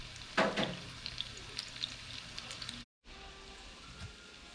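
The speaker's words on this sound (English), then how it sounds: "I just want that to sear a little bit." Crab cakes searing in a hot pan, a soft steady sizzle with a few brighter crackles near the start, fairly quiet, cutting out briefly before resuming.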